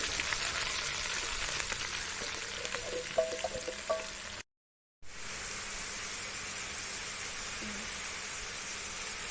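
Onion sliced into a hot pan with curry leaves already frying for a Kerala beef-bone curry, a steady close sizzle and hiss with faint stirring clicks and a brief cut in the middle.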